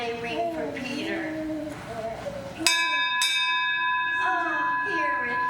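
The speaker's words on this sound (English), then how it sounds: "It must be the bell they ring for Peter." A church bell struck in a stage play, ringing out with a bright sustained tone after people talk; a second stroke follows and the ringing lingers under faint voices.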